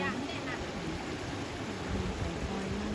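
A forest stream runs over rocks after the water level has dropped, giving a soft, steady flowing rush under faint background voices.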